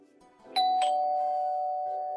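A two-tone doorbell chime rings once alone, a bright first note followed by a sustained lower ding-dong tone that slowly fades over about two seconds.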